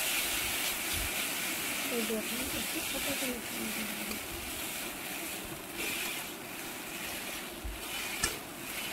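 Half-boiled Maggi noodles sizzle in a frying pan, a steady hiss running through the whole stretch with soft stirring clatter, fairly close and moderate in level.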